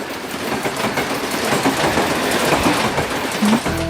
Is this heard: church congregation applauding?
no